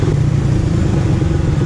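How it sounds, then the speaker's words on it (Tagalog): A Suzuki Raider R150 Fi motorcycle engine rumbles steadily and loudly up close while downshifting in traffic, a continuous low throaty drone with slight clatter and no clear pauses. "Kaya magda-downshift ako sa lower gear para lang humatak yung motor ko."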